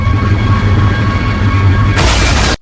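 A bomb carried in a bag explodes on a city sidewalk as a loud, continuous low rumble that breaks into a sudden, harsh full blast near the end.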